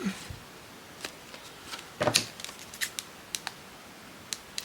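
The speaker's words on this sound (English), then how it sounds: "Snip the little corner, and there we go." Scissors snipping the corner of a small handmade paper tag, a few faint sharp clicks and snips scattered over a quiet background, with one louder cluster of cuts in the middle.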